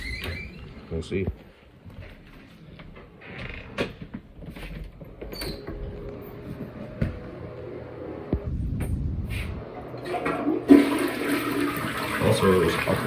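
A toilet flushes with water rushing and draining through the bowl, steady and close, while someone talks over it.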